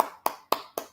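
Four crisp hand claps land close and evenly spaced, each a sharp slap with a quick decay, alone without any voice.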